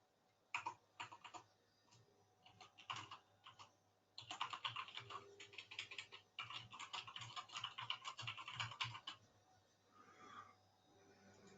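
Someone types on a computer keyboard in bursts of rapid clicking, from scattered taps to a dense run and then a pause, close and fairly quiet.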